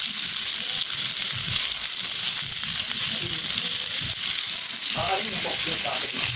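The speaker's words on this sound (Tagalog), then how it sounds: "Igisa ko muna guys ang aking sugpo or hipon na panghalo sa aking paella" Shrimp sautéing in a hot pan for seafood paella, a loud, steady sizzle and crackle close by, with occasional stirring scrapes and a voice talking briefly near the end.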